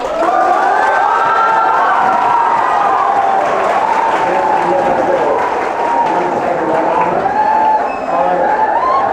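Audience applause and cheering fill a hall for a guest speaker at a NEET exam preparation event, loud and sustained crowd clapping with shouts, under a voice.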